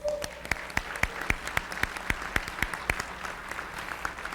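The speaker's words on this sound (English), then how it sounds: "Can you give these guys a round of applause, please?" Applause for first-time attendees at a conference, a modest crowd clapping at middling volume, with one or two evenly timed sharp claps cutting through a light bed of hand claps.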